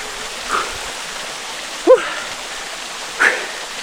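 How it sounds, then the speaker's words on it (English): A small mountain waterfall near Granby, Colorado, a steady close hiss of falling and rushing water that fills the whole clip, broken by a few brief louder splashes or vocal sounds. "Oh, pretty cool little waterfall."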